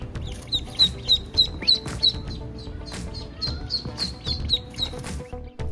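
Ducks call in a quick run of short, bright quacks and chirps, close and fairly loud over a busy background.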